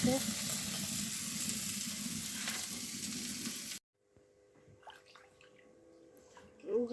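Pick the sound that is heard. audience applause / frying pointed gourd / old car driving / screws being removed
frying pointed gourd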